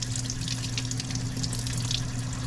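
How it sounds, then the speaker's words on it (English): Salted bitter melon rinsed under a running kitchen tap, a steady close splash and hiss of water with a constant low hum underneath, no talk. "Now I'm going to rinse this off."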